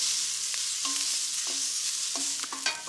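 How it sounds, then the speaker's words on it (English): Food sizzles hard in a hot wok as it is stir-fried, a steady loud hiss broken by the scrape and knock of stirring against the pan. "So as you stir it, it runs up the side and then it falls back down to the hottest part of the pan"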